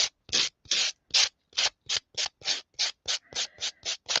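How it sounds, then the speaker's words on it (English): Wooden buttons being rubbed with a small sanding block, a brisk run of about fourteen short, even scraping strokes in steady rhythm, close and clear with no talk. "I just go around and sand them down so they're smooth, basically."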